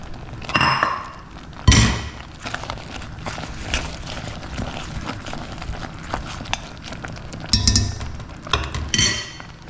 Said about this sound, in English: now I'm going to put in the shrimp paste and continuously stir it until it dissolves